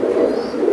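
An Afsan baga pigeon gives one short, loud, close-up coo that rumbles steadily for under a second, with no voices.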